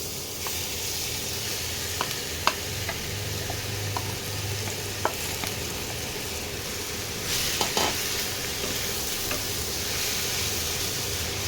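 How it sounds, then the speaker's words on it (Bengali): Grated mango frying in hot oil gives a steady broad sizzle and hiss, with a few faint clicks of a spoon against the pan and no voices. "তেলটা গরম হয়ে গেছে, এবারে আমি এই গ্রেট করা আমগুলো দিয়ে দেবো।"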